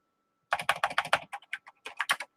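Rapid typing on a computer keyboard during a Tandy computer session, a dense burst of close, crisp key clicks with a few brief pauses, no talking.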